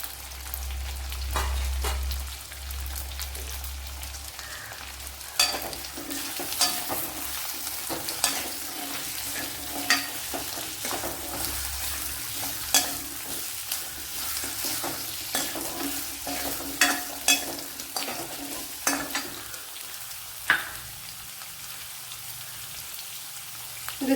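Gooseberries and chillies sizzle steadily in a hot pan, a continuous hiss of frying broken by repeated scraping taps of a spoon stirring, close and fairly loud.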